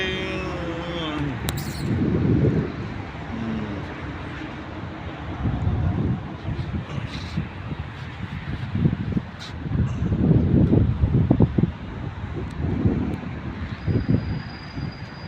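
Gusty wind buffets the microphone in low, rumbling surges that rise and fall throughout while fishing, with faint voices underneath.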